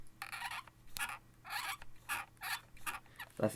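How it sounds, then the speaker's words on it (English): The plastic R2 shoulder trigger of a Wikipad WP005 gaming tablet clicks in quick rhythmic bursts, a series of sharp scratchy taps repeated about eight times, close and fairly quiet. "by a mile the worst are these shoulder buttons. You hear that"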